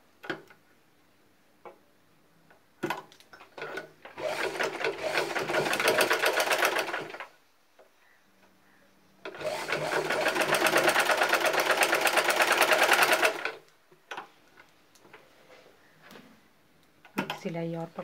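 Two bursts of a sewing machine stitching a half-inch seam on a tear drop piece, each a few seconds of steady rattling whir close by, with quiet gaps and light clicks between them.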